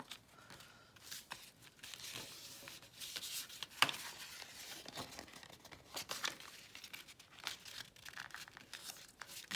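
Paper being folded and creased to make a frog pop-up card, giving soft, close crinkling and rustling with scattered crisp crackles across the whole stretch.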